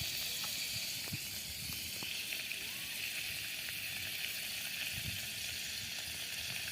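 Ingredients fry in hot oil in a pan at a campsite, a steady low sizzle and hiss running throughout with a few faint clicks and scrapes on top.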